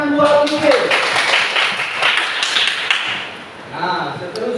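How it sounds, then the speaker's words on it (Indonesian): A classroom breaks into a brief burst of clapping that swells and fades over a few seconds, with a voice speaking before and after. "tepuk tangan buat Niki."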